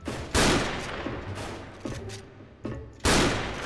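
Heavy Barrett M82 anti-materiel rifle shots in the online shooter SF (Special Force), three loud booming blasts spaced irregularly, with fainter distant gunfire crackling between them.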